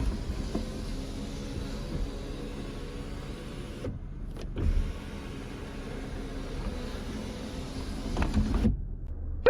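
A steady electric sunroof motor whir runs for several seconds, briefly cutting out and resuming, then stopping near the end, heard from inside a used car.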